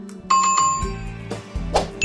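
A bright electronic bell dings once, ringing clearly, followed by a few short synthetic blips and tones.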